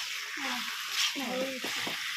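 Vegetables sizzle and fry in a pan with chili and garlic, a steady hiss underneath, while someone talks over it.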